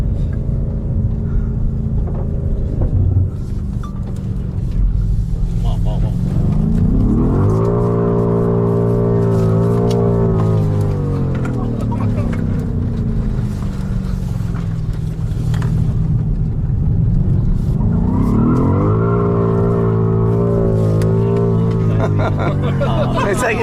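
A BMW M5 Competition F90 sports car warms its tires before a launch in second gear, its engine rumbling loudly and rising in pitch twice as it revs, with people talking over it inside the cabin.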